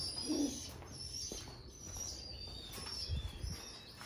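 Pigeons in cages coo softly in a low, throaty tone, with flutters and wing sounds around them and a faint hum in the room, and no one talks.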